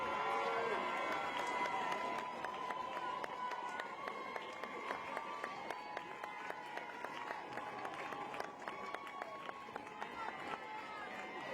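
An audience at a tournament awards presentation claps for the player of the tournament, a dense spread of claps running throughout beneath a speaker's amplified voice.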